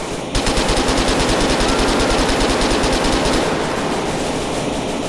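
Sustained rapid automatic gunfire in the GTA 4 video game with an army mod, dense and loud bursts running continuously after a brief quiet start, tapering slightly toward the end.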